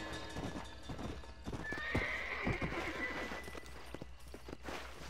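Horse hooves clip-clopping in the video game Red Dead Redemption, a quick irregular run of close hoofbeats with a brief whinny partway through, moderately quiet and with no talking.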